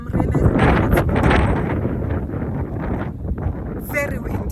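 Strong wind buffets an outdoor microphone on village land, a steady broadband roar with gusty surges throughout, while a person's voice comes through partly under the noise.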